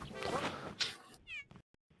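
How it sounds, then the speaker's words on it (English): A cartoon cat meowing in the Super Mario 3D World video game, a couple of short, bright meows amid quick game sound effects, close and clear with no talking. "And pet the cat."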